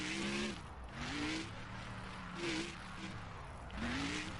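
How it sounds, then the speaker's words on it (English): Monster truck engines rev continuously in a video game, with tires skidding and squealing in repeated swells over a steady engine roar. "Trucks sound good."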